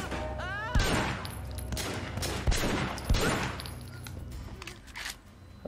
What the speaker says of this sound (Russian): Отлично, меткий выстрел получился.